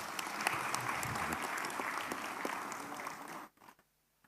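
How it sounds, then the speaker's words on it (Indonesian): Applause from members at an Indonesian parliamentary committee meeting, dense steady clapping from a room of people that cuts off abruptly near the end. "Boleh tepuk tangan dong."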